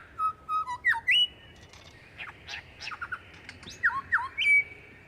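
A lyrebird in the Snowy Mountains bush of Australia delivers clear, close whistles, squawks and chirps mimicking other bird species, in separate bursts with short pauses between them.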